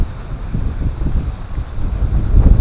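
Steady, blustery wind buffeting the microphone at a lakeshore in autumn, a low rumbling roar that swells in gusts with no talk.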